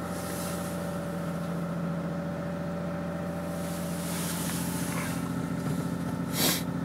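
A car engine idling steadily after a cold start at -40 degrees, a low even hum with a faint rattle and a few brief higher noises near the end.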